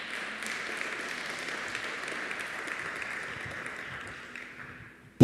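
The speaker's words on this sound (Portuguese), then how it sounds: "Aplauda bem forte ao Senhor." A church congregation applauds during a worship service, a steady, fairly quiet wash of clapping that holds for about five seconds and then fades out.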